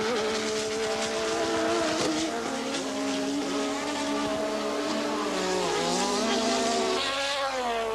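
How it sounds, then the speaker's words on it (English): Formula One race cars from the 1986 season howl past, a loud, continuous high-pitched engine wail with rising and falling pitch as cars accelerate and sweep by, close and dominant. "Prost went past Alboretto's Ferrari into 3rd place"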